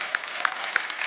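Studio audience at a live Hindi comedy talk show applauding, a short burst of dense clapping from many hands.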